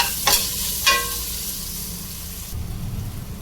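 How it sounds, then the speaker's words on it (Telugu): Ginger garlic paste with carrots fries in hot oil for bagara rice: a bright, close sizzle with two sharp clinks of a stirring spoon early on. The hiss eases after a couple of seconds into a lower, steadier crackle. "వన్ స్పూన్ అల్లం వెల్లుల్లి పేస్ట్ వేసుకోవాలి ఇది కూడా కొద్దిసేపు ఫ్రై చేసుకున్నాం"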